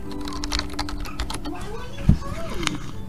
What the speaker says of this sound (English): Type in timestamp.